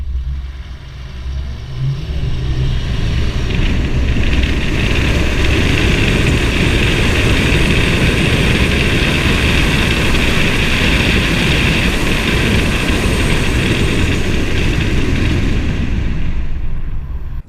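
A VW Amarok V6 and a Chevrolet S10 High Country pickup accelerate side by side in 4x4 High with traction control off, a loud, sustained engine roar that builds quickly and holds steady before easing off at the end.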